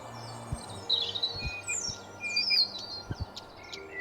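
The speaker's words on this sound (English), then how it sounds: "While birds get progressively louder in my ears." Birds chirp in a mountain level of a video game, a steady mix of high tweets and calls over a faint low ambient hum, with no voices.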